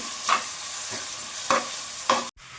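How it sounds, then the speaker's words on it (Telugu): Onions and green chillies fry in an oiled pan for a prawn and gongura curry: a steady sizzle with three sharp spoon-stirring scrapes, then a brief cutoff near the end. "ఇందులోనే ఒక నాలుగు పచ్చిమిర్చి వేసుకోవాలండి ఆనియన్స్ బ్రౌన్ కలర్స్ వరకు ఫ్రై చేసుకోవాలి"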